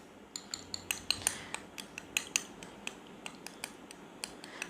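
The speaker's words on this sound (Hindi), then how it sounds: "अब इसको अच्छी तरह करेंगे मिक्स।" A spoon stirs a homemade face remedy in a bowl, making a series of light, fairly quiet clinks and taps at an uneven rhythm, with no voices.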